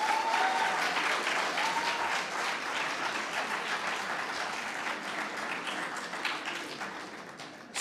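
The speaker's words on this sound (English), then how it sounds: "A big round of applause for them as well" Sustained audience applause at the Ace Spectrum 2022 event, a full, steady round of clapping from a large crowd that holds for several seconds and tapers slightly toward the end.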